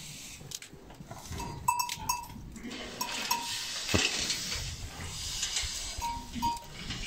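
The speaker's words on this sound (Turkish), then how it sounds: "Keçilerimiz." Goats on a highland pasture in the Haçka plateau near Silifke, Turkey, with kids among the herd, bleat several times at close range. Scattered clatter and movement sounds are heard between the calls.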